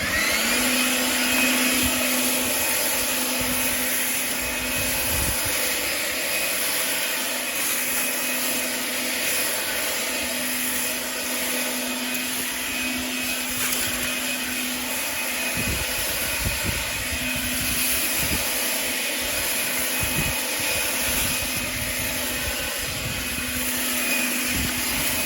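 Bushranger 36V battery-powered leaf blower running in regular mode, a loud continuous motor whine and rushing airflow that holds steady for the whole stretch with no talking.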